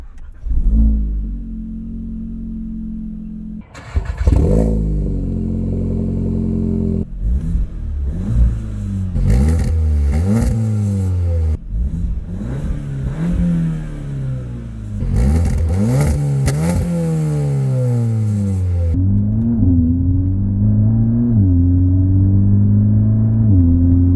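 Volkswagen Golf R Mk7.5 hot hatch driving on the road, its engine revving hard through repeated rising sweeps with quick shifts between them, loud and close from start to end with no talk.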